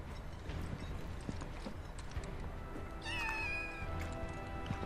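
A cat in Final Fantasy VII Rebirth meows with a clear, rising tonal cry near the end while eating cat food, over a steady game background with faint hoof-like clatter.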